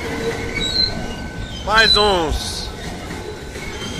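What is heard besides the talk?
freight train with covered wagons passing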